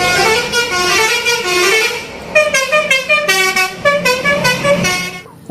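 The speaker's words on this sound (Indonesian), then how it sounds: "ternyata di sini ada bus telolet." A toy telolet bus horn plays its bright multi-tone melody, a loud close run of musical honks repeating in quick pulses with no talk over it.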